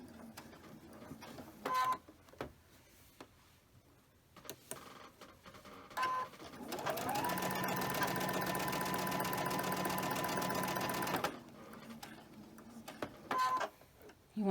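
A sewing machine stitches quilt blocks, starting with a few short bursts and then running in a steady, loud mechanical whir for about four seconds before stopping, with quieter handling clicks around it.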